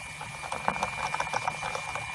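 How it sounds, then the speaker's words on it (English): Cube magnets on a 3-phase magnetic motor rattle under applied power, a fast, busy buzzing chatter that holds steady and close throughout, with no voices. "they just rattle when 3-phase power is applied"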